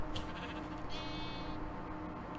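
Lamb bleating in the video game Terrafirmacraft: a single wavering bleat, near and clear, over a steady, fairly loud background bed of game sound, without talk.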